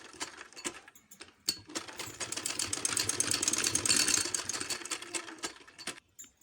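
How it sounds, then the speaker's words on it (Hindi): A sewing machine stitches a baby girl's winter frock skirt onto its yoke, running in a steady mechanical whir that builds and holds for several seconds, broken by brief pauses and small handling clicks, with no talking. "अब हम इस तरह से इसे योक के साथ अटैच करके सिलाई लगा देंगे।"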